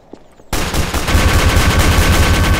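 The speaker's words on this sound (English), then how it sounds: "Stop using the minigun!" Minigun fire in Garry's Mod begins abruptly after a brief quiet moment, then roars as a loud, rapid, unbroken stream of shots.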